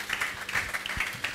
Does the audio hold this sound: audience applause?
yes